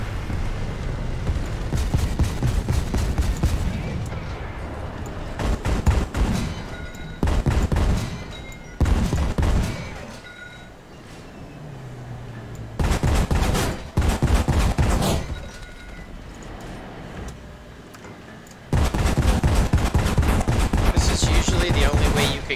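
Bombs fall and explode during a War Thunder aerial battle, with dense bursts of booming blasts and rapid gunfire arriving in loud waves between quieter stretches. A voice speaks over parts of the battle.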